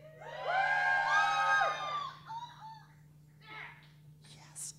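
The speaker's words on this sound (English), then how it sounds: "That's the part where you cheer." An audience at an open stage variety show lets out a burst of loud cheering and whoops. The crowd noise fades into scattered calls and murmurs.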